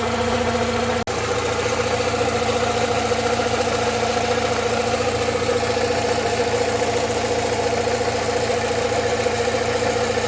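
A Rover 45 Impression S3 CVT engine idles, heard close to the gearbox: a steady, even mechanical hum with a faint rhythmic ticking, unchanging throughout after a brief click near the start.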